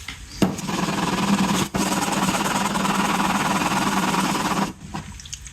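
A cheap plane blade clamped in a honing guide is rubbed on 220-grit sandpaper, making loud, continuous gritty rasping close by, with one brief break midway and a sudden stop near the end.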